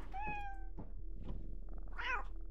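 A cat meows several times in a video game, with short, bright tonal cries spaced apart over quiet background hum and faint knocks.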